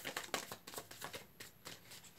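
Tarot cards shuffled by hand during a reading, a quiet rapid series of soft riffling flicks and taps in an uneven rhythm, close and alone.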